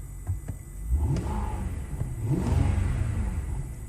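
A BMW E65 745i V8 engine revs up and settles back with a deep, rumbling growl, rising twice in pitch over a steady idle, close by.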